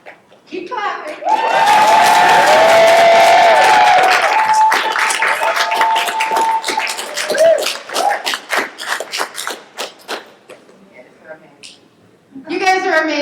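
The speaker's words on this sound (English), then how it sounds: "Keep clapping." Audience at a poetry slam convention breaking into loud, sustained clapping and cheers for several seconds, then thinning into scattered claps under a speaking voice near the end.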